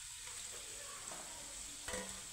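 Soybean and mung dal koftas fry in hot oil, giving a soft, steady close sizzle over a couple of seconds with a faint clink of stirring near the end.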